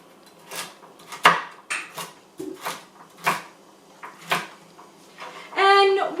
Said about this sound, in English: So just cut this carrot up.